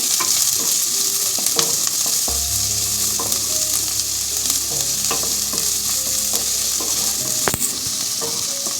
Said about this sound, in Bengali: পেঁয়াজটা একটু ভাজা হোক তারপরে ডিমটা